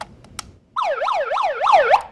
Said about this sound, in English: it also works as a siren